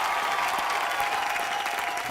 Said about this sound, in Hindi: बेटा, हेलो, जोरदार तालियां।